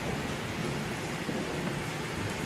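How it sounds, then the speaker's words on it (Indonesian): Heavy steady rain pours in a dense unbroken roar, with a low thunder rumble running underneath during a storm. "mendung ya. Petir nih."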